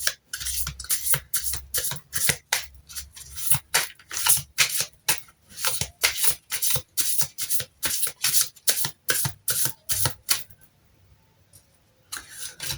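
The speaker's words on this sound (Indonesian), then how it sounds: "Kita lihat, kita shuffle dulu." Tarot cards are shuffled repeatedly in a fast, steady rhythm of crisp riffling and rubbing strokes, close and clear with no talking, pausing briefly near the end.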